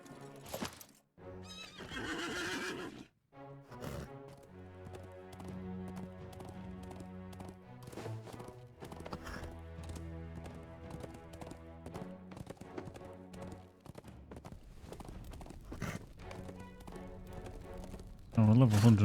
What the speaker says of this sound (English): let's get on the horse, a horse, of course